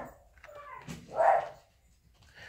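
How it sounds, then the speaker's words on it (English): A single dog barks once, mid-distance, with a few faint yips or whines around it. "sorry about the barking dogs in the back"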